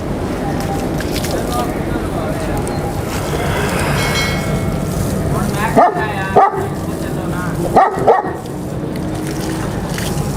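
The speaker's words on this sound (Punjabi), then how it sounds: "ਤੁਹਾਨੂੰ ਦਿਖਾ ਰਹੇ ਦੋਸਤੋ ਕਾਲਾ ਲੰਬੜਦਾਰ ਸਾਹਿਬ ਦੇ ਡੌਗਸ" A Bully dog barks while being bathed, giving two pairs of short, sharp barks over a constant rush of running water.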